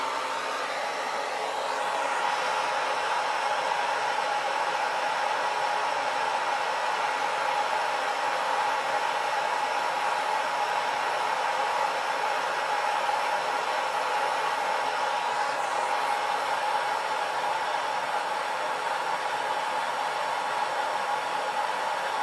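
A torch heats the cracked mower deck of a 1974 Gravely 812 tractor with a steady, unbroken hissing roar that holds close and even throughout, with no voices.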